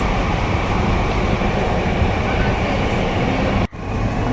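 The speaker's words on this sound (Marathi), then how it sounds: "खूप छान होतं बघा मेट्रोचा प्रवास." Steady rumble of a Mumbai metro train heard from inside a moving car, loud and continuous with faint rail clatter and a brief dip near the end.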